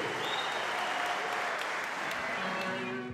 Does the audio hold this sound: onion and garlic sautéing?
no